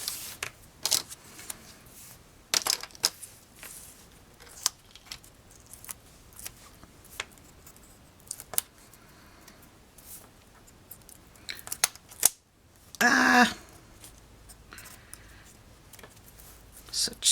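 Scissors snipping small pieces of paper for a mini album craft, sparse quiet crisp cuts scattered through the stretch with a louder rustle of paper handling near the end and a little talk.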